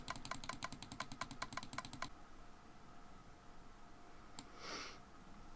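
Rapid clicking at a computer keyboard and mouse while researching in modded Minecraft Feed The Beast, a quick burst of crisp taps for two seconds, then quiet with a lone click and a brief rustle.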